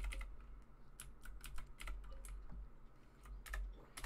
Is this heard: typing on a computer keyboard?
yes